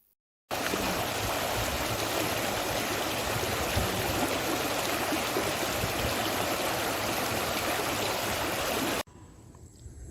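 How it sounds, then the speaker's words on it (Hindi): Floodwater rushes across a damaged main village road in Mahnauli with a loud, steady roar close by that cuts off abruptly near the end, leaving faint background noise. "महनौली गांव में मुख्य सड़क पर बाढ़ का पानी तेज बहाव के कारण कई जगह सड़क पर फैल गया है"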